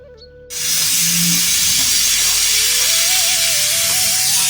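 After a moment of quiet, a pressure cooker cooking potatoes lets out a loud, sustained hiss of escaping steam that holds steady, with a faint whistling tone rising through it.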